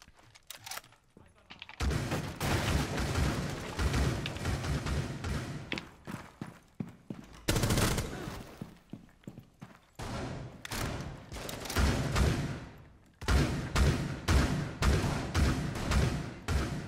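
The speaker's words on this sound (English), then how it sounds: "I'm like shooting the bomb to try and hit someone behind it right now" Gunfire in Rainbow Six Siege during a Terrorist Hunt bomb-defuse round, with bursts of shots and thuds in loud clusters separated by brief pauses, a voice speaking over parts of it.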